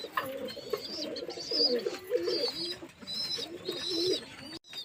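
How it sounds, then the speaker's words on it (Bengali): Young pigeons waiting to drink water coo repeatedly close by, overlapping throaty warbling calls rising and falling in a steady stream with higher chirps mixed in. "পায়রাগুলো কেমন করছে জল খাবে বলে"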